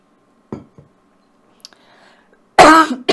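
A person gives a couple of short coughs, then after a pause a loud, harsh cough close to the listener.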